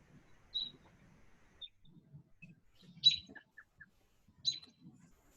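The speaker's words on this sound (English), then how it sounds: "We're enjoying hearing the birds." Birds chirp outdoors in a few short, bright, high tweets spaced a second or more apart, fairly faint over a quiet background with low murmuring noise.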